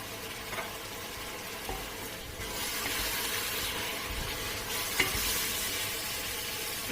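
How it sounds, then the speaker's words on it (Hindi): Masala with tomatoes and a little water sizzles in a pan at a steady low hiss, broken by occasional soft scraping taps of stirring, with no talk. "अब मसालों को भी हम अच्छे से भून लेते हैं।"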